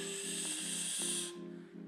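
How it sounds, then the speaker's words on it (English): A forceful exhale pushing all the air out of the lungs, a steady breathy hiss lasting just over a second over a low background hum, then cutting off. "Now I will simply exhale all my air."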